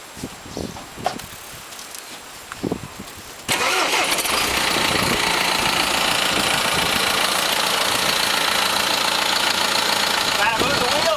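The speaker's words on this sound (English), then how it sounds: "so I got to start the tractor up." John Deere tractor engine cranks and catches a few seconds in, then settles into a loud, steady, rumbling idle that runs for the rest of the stretch; some handling noises come before the start.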